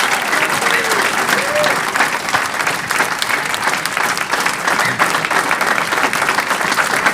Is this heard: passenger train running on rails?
no